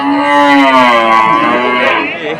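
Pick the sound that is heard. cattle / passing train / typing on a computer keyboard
cattle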